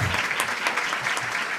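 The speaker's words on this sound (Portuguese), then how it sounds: "Palmas para a polilaminina." Audience applause fills a presentation hall, a dense steady wash of many hands clapping at even loudness for the whole stretch, with no talk over it.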